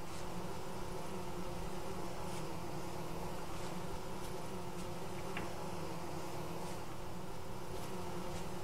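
Bees buzz in the video game Vintage Story, a steady faint droning hum under a constant noisy bed, with no talking.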